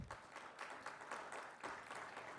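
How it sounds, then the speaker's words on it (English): Conference attendees at the Education 2.0 event in Dubai applaud to welcome panelists onstage, giving soft, distant clapping that swells and dips in uneven waves across the short stretch. "Please welcome them with warm applause."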